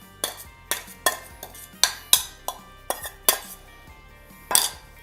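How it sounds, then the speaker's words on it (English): Chicken is mixed with spice mixture and tomatoes in a dish for oven pulled chicken, with a utensil clinking and scraping against the dish in about a dozen sharp, close knocks at an uneven rhythm. "Mix it all up"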